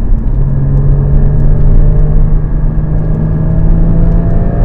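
A 981 Porsche Cayman GT4's flat-six engine heard from inside the car, a loud, steady deep rumble and whir under load without a break.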